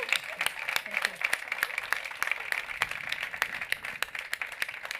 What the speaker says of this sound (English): I would ask everyone a warm applause to these fantastic speakers